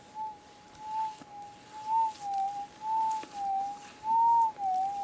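A Minelab GPX-5000 metal detector fitted with a Coiltek Elite Max coil gives a clear, wavering target tone on a likely lead target near a dam, rising and dipping in pulses over faint outdoor background noise.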